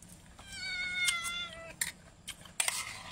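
A house cat meows several times up close, its drawn-out calls clear and fairly loud, with a few sharp noises breaking in near the end.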